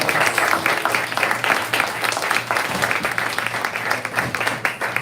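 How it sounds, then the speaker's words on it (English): A round of applause for four poets at a live poetry reading: steady, full clapping from the audience throughout, without talk. "let's give one more round of applause for these four amazing poets"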